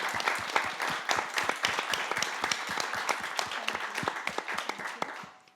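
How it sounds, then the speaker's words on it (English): An audience closing a panel discussion applauds, with dense, steady clapping from many hands sustained throughout at moderate volume and no voices over it. "So a round of applause."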